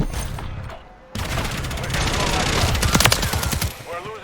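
Sustained rapid gunfire from a Call of Duty Modern Warfare 3 Domination match, loud automatic bursts with a brief lull before the shooting resumes, mixed with in-game radio voices.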